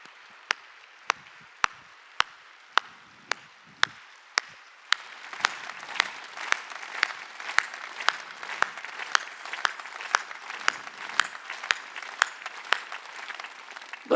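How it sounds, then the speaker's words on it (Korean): A congregation claps during a Sunday worship service at a church in Incheon. Sharp, steady, evenly spaced claps come first, then a fuller wash of crowd applause joins beneath the continuing beat. "박수 칠려면 정말"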